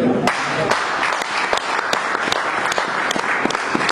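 A church congregation applauds during a preacher's sermon, a dense, sustained round of clapping with sharp individual claps standing out over a murmur of voices.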